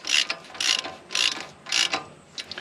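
A ratchet snugging up the bolts on an 80 Series Land Cruiser CV joint, four close, loud bursts of rapid clicking strokes with short pauses between them and no talk.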